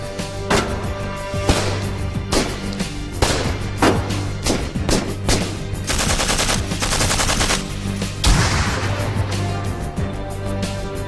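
Rapid bursts of automatic gunfire and single shots strike an armored Mercedes-Benz S-Class Pullman Guard limousine during ballistic testing, loud and sustained with dense repeated volleys and no talking.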